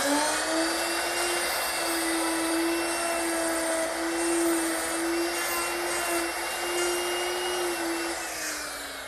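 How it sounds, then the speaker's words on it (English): Router fitted with a 1/2-inch mortising bit cutting hinge mortises for a writing desk, a steady high-pitched motor whine with a strong constant tone, close and loud throughout, easing slightly at the end, with no speech. "the router is equipped with a 1/2-inch mortising bit."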